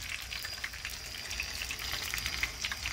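Fish fries in hot oil that has turned brown, giving a steady crackling sizzle with scattered pops throughout, close and fairly loud, with no voices.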